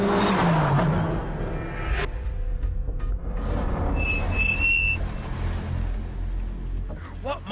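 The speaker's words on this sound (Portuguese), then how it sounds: "Este turbo faz um som formidável" A turbocharged car engine in the Renault tradition revs and accelerates loudly, a dense mechanical roar with a rising whine and whooshing turbo sounds across the whole stretch, with a brief high squeal midway.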